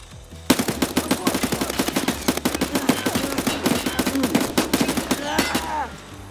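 Rapid automatic gunfire from Escape from Tarkov, dense bursts of loud close shots rattling almost continuously for about five seconds, then a brief pause and a few final rounds.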